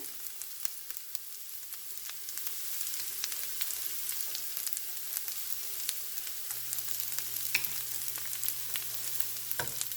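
Okra (ladies finger) fries in a pan with salt: a steady, close sizzle and crackle with scattered pops and occasional stirring scrapes, and no talk.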